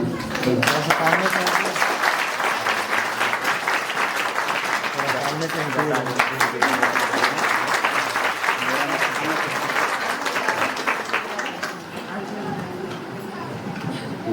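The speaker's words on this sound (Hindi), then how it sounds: "सब लोग ताली बजाएंगे।" Wedding guests at a Hindi-speaking Christian wedding ceremony clap together in sustained, dense applause that fades slightly near the end, with voices audible underneath.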